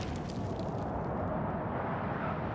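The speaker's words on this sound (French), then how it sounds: "T'as tapé une grenade, moi." Grenade blast in the war shooter Six Days in Fallujah, a loud sustained roaring rumble that fills the whole clip with dense low-end debris noise, no voices over it.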